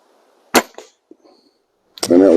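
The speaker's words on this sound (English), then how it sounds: "And that was shot number 5." A Diana Two Forty air rifle fires a single sharp shot on a bench test at about 25 yards, with a brief faint impact after it, followed by someone speaking.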